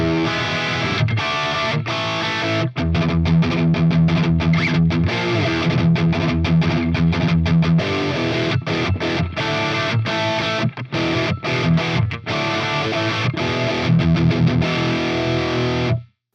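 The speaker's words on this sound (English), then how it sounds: "their distortion algorithm leaves much to be desired" Heavily distorted electric guitar through an Eventide H9 Harmonizer pedal's crush distortion effect plays a loud, fuzzy, crunchy riff with choppy rhythmic stops, continuous for several seconds before cutting off.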